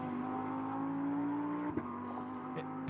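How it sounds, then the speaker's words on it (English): An Audi GT race car runs steadily past on a circuit, its engine a continuous droning whine, then a sharp thump and momentary break as it hops over a track bump, followed by the engine carrying on more distantly. "these cars don't have that aero, and therefore when they get to those bumps, you actually hear them coming off the ground"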